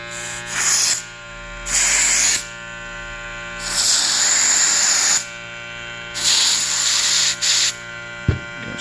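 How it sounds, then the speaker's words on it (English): Several hissing bursts of Fast and Furious clipper spray aimed at hair clippers running with a steady electric buzz, each spray lasting about a second or more with short pauses between, close and loud. "Gonna spray that way."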